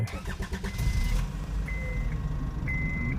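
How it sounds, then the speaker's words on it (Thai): Honda Accord G8 upgraded with a smart key, remote-starting: a close engine cranks and catches into a steady idle, with electronic beeps sounding during the start. "อ่าครับผมนี่คือสั่งสตาร์ทผ่านตัวรีโมทนะครับ"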